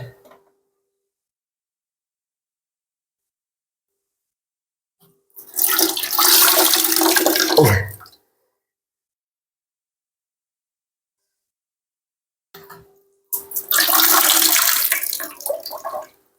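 Water from a fridge being cleaned pours out in two loud gushing bursts separated by quiet, each lasting a few seconds, close by.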